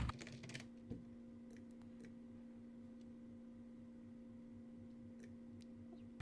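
Keys tapped on a computer keyboard in a quiet room, a short burst of soft clicks at the start over a constant low electrical hum, then mostly hum with faint scattered ticks.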